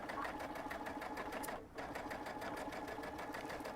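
A sewing machine stitches minky plush fabric for a scrunchie, running in a fast steady rhythmic whir with one brief pause near the middle, close and fairly quiet.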